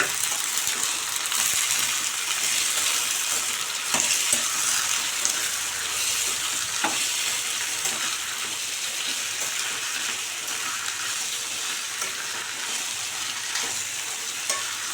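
Chopped ivy gourd (about 400 g, cleaned and cut) stir-frying in a pan over a medium flame, a steady soft sizzle with occasional scraping stirs throughout, no talking.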